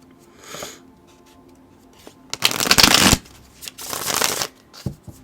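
Tarot cards are shuffled by hand in two loud riffling bursts, preceded by a softer card flick and a few light taps and handling sounds nearby.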